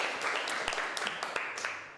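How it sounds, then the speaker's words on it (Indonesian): Classroom students clapping for a classmate who answered a question, a dense patter of hand claps sustained for two seconds and gradually fading, with faint voices mixed in. "Beri aplaus untuk sahabat kita dulu."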